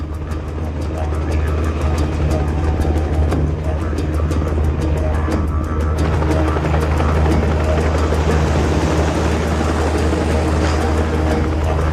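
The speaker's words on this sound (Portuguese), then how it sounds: "Os cowboys utilizam helicóptero para empurrar as vacas." A helicopter herds cattle across a vast Australian ranch, its engine and rotor a loud, steady, continuous roar with rapid blade chop throughout and no voices.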